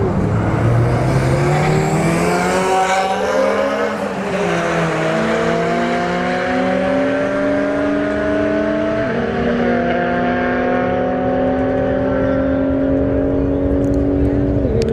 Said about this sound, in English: we got the M4 in the right lane, the BRZ in the left lane.